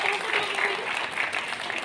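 An audience applauds steadily at an industry fuel-conservation awareness campaign event, a dense, continuous patter of many hands clapping at even loudness throughout.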